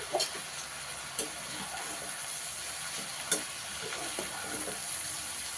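Spices and chili powder fry in a pan as a steady close hiss, broken by a few sharp clicks and taps of a spoon, with no talking.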